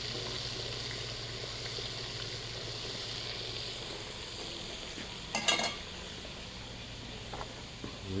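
Trout fillets frying in a pan, a steady close sizzle with a faint background hum, broken by a few brief clattering bursts of handling midway and near the end, no talking.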